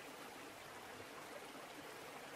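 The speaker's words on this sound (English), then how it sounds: "Listen to the waves." Ocean waves on a honeymoon shore wash as a steady, soft broadband hiss, continuous and even throughout with no distinct breaking surges, faint and distant-sounding, with no voices over it.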